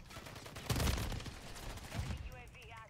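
Video game gunfire crackles in a short burst of rapid shots, then fades as sparse pops continue, faint overall, with a voice speaking over it.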